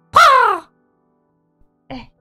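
A single loud, hoarse crow caw voiced by a person, close and alone, followed after a pause by a brief, softer vocal sound.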